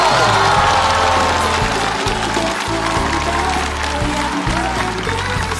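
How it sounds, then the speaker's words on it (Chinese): A live stand-up comedy audience applauds to welcome a comedian onto the stage, dense and loud clapping with cheering that carries on steadily throughout, while background music plays underneath. "让我们掌声欢迎赵英子"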